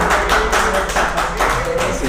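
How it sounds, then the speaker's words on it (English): Crowd applause at a political party headquarters on election results night, a short burst of scattered clapping heard fairly close, loud and continuous for about two seconds. "I see some applause there."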